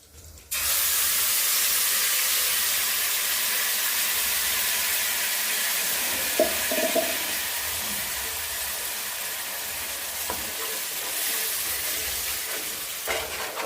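Ground peanut, sesame, coconut, chilli and salt masala dropped into hot oil, bursting into a loud, steady hiss and sizzle that holds for over ten seconds, with faint stirring scrapes in the middle and near the end.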